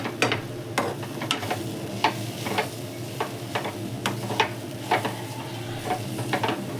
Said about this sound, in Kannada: ಇದು ಹಸಿ ಕೊಬ್ಬರಿ ಆಗಿರೋದ್ರಿಂದ ಫ್ರೈ ಮಾಡ್ತೀನಿ